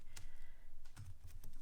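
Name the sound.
shuffling tarot cards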